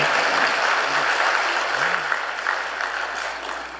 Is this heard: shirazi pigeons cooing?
no